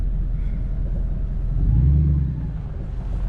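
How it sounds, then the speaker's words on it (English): A supercharged, straight-piped project truck engine gives a deep, steady rumble, then swells into a brief rev and settles back down, loud and close, with no speech. "And would y'all listen to that supercharger?"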